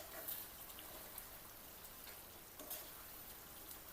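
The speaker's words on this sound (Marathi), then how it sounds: "आता मटण टाकायचं। मटणाला परतून घ्यायचं व्यवस्थित।" Pieces of mutton sauté in oil that has released its spices, with a soft, steady sizzle and occasional light stirring scrapes, close but quiet, no voices.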